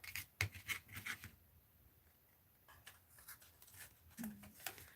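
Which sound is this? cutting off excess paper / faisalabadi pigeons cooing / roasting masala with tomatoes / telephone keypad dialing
cutting off excess paper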